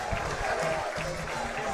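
Fans at a high school football game cheer and applaud as the Westminster Titans take the field, a broad crowd roar heard at a distance beneath a commentator's voice.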